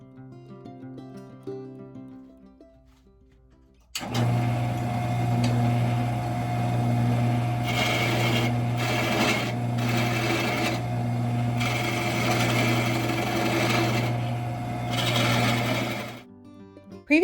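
Wood turning on a Shopsmith lathe with carbide tools, starting abruptly after a quiet lead-in, then a steady loud motor hum with scraping, rasping cutting noise that swells in bursts before stopping near the end.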